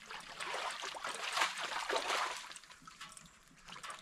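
Shallow creek water trickling and splashing steadily nearby, a bright broadband babble with small surges, no voices.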